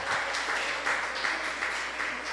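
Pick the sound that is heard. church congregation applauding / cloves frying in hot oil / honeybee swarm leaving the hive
church congregation applauding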